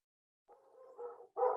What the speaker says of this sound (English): I apologize for my dogs wanting to enter the conversation